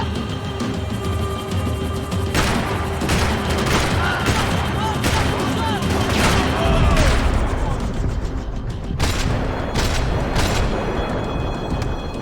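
Gunfire in the Max Payne 3 PC video game, loud and continuous with sharp repeated shots and booms, over shouting game voices and a dense action soundtrack.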